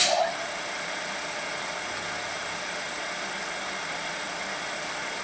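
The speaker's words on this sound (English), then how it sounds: "Let's run the motor again." A steady electric motor runs alone on a DC injection brake test rig, a constant even drone holding at one level after a brief louder start.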